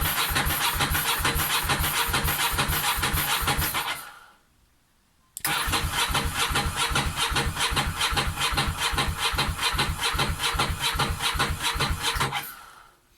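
Ducati motorcycle engine turning over on its starter button with no oil in the system, a loud steady rhythmic cranking that stops briefly after four seconds, then resumes for another long stretch before cutting out.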